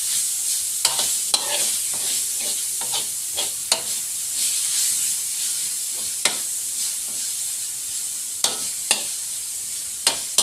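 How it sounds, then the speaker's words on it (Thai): Minced pork stir-fried with fried garlic in a hot pan, a steady close sizzle broken by sharp scrapes and clacks of the spatula stirring at irregular intervals, with no talking. "ผัดให้เข้ากันเลย ผัดจน หมูสุกครับ"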